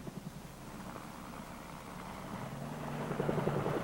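A Marine Corps helicopter flies steadily, its rotor and engine making a continuous low droning rumble with rhythmic blade thumping that grows slightly louder toward the end, with no voices.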